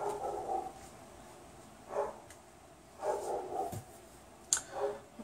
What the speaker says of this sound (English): Sorry for my dog again.